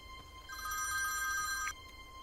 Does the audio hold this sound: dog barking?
no